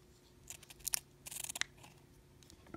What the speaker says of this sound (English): what we're going to do, the most satisfying part of this, is just to cut off the edges